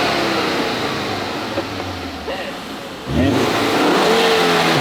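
A sports car engine, fresh from a rebuild with a new timing belt, revs loudly in rising bursts after a brief lull, the pitch sweeping up and holding strong while people talk and exclaim over it.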